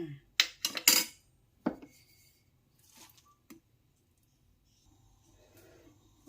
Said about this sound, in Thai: พริกแห้แล้วค่ะเราก็จะใส่ปลาทูโคลกรวมกันค่ะ